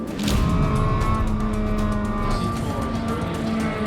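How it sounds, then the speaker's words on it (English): SRO America race car engines drone steadily nearby as the cars move along pit road onto the track, with a sustained tonal hum and faint tire noise, loud and continuous throughout. "the cars are moving on the pit road, making their way onto the track"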